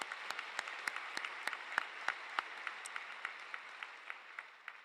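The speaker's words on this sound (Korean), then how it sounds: "하나님께 영광의 박수를 올려드리겠습니다." A congregation at Yoido Full Gospel Church applauds during a Sunday Christmas Eve service, with steady, fairly soft crowd clapping and sharper individual claps standing out in a regular rhythm.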